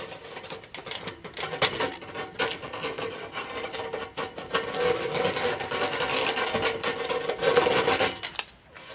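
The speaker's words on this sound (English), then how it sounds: "you just use it to trace it around the tube to take off the burrs" A hand deburring tool is traced around the inside of a steel or aluminum tube, giving a continuous close scraping and rasping with uneven strokes for about nine seconds.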